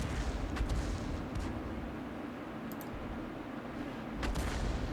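An M41 HMC self-propelled gun fires at a KV-1 in a tank battle game: a few heavy booming shots, a couple early and another near the end, over a constant low rumbling battlefield background.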